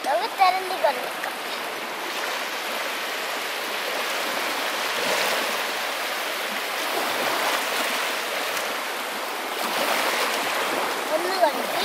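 Water splashing and washing over a freshly caught stingray, a steady broadband rush of running water close by, with brief louder surges near the start and end.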